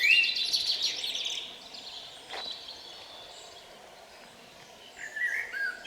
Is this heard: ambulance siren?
no